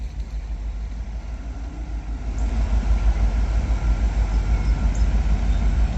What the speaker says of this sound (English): sunbound train coming in.